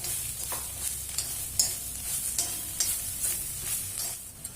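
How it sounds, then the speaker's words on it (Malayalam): Fried soya chunks stirred into spice powders in a hot pan, a steady soft sizzle with repeated scraping strokes of a spoon, close and moderately quiet, no voices. "പൊടികളുടെ പച്ചമണം മാറിയതിന് ശേഷം വറുത്ത സോയാ ചങ്ക്സ് ഇട്ട് യോജിപ്പിക്കുക."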